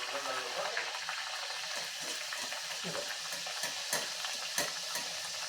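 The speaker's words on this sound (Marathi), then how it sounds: "एक एक करून पुरी आपल्या आपण ह्याच्यामध्ये सोडून घेऊया आणि मीडियम आचेवरच ही पुरी आपल्याला छान तळून घ्यायची आहे" Masala puris made with fresh green peas frying one at a time in hot oil over a medium flame: a dense, continuous bubbling sizzle with occasional stirring clicks, close and steady, with no talk.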